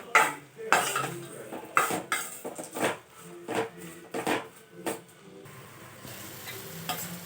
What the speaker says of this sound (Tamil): நல்லா வெங்காயம் தக்காளி வதங்கட்டும்.